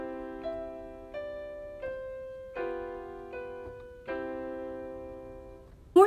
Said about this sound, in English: So piano means quiet, and it sounds something like this.